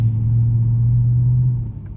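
Ford Mustang GT V8 engine on summer tires climbing a snowy hill, a loud steady low rumble held close for about two seconds before easing off.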